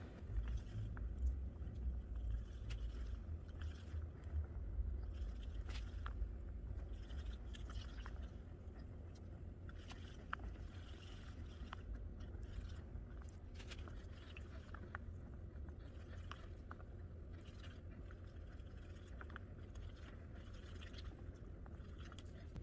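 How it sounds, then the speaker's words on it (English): A tool scraping the sides, corners and bottom of a container while mixing a hardening coating for Styrofoam, a continuous close, soft scraping and squishing with irregular clicks and knocks throughout. "we're scraping the sides, we're trying to get in the corners, getting in all the recesses, trying to make sure I'm scraping the bottom"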